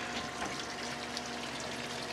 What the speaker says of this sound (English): And they both start filling.